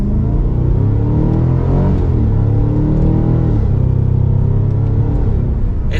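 A 2023 Cadillac CT5-V Blackwing accelerates hard, its exhaust producing a steady, loud, deep rumble with rising engine harmonics that climb and dip across the pull, continuous throughout with no voices.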